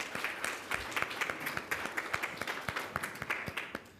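Applause from an academic conference audience for visiting scholars and speakers, a fairly small group clapping at a moderate, even pace, slightly distant and soft.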